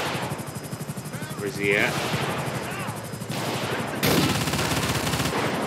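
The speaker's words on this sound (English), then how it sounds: "We got automatic weapons fire over here." Automatic weapons fire in the GTA 5 video game (LSPDFR police mod), steady rapid bursts rattling throughout under a helicopter-like drone, with someone speaking briefly over the shooting.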